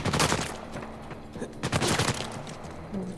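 Gunfire erupts in Uncharted 4: sharp, separate shots crack in uneven clusters amid a busy, moderately loud mix, with faint voices underneath.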